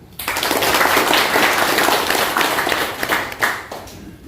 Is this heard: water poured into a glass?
no